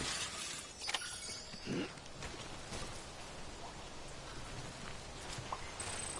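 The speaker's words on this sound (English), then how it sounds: "it is raining, which sucks" Steady rain pours down in a constant hiss in the video game Death Stranding, with a few brief clattering spatters standing out now and then.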